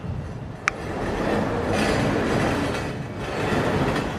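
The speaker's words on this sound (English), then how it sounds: "he lives right by a freaking subway train" A subway train rumbles past in The Wolf Among Us, a steady low roar that swells and holds for several seconds, with a single sharp click near the start.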